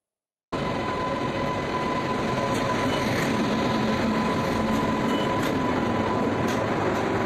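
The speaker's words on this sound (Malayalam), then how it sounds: "കേരളത്തിലേക്കുള്ള ആദ്യ ഡബിൾ ഡെക്കർ ട്രെയിൻ പരീക്ഷണ ഓട്ടം നടത്തി" A double-decker Udaya Express train rolls past on a trial run in Kerala with a loud, steady rumble of wheels and carriages that starts abruptly and continues unbroken.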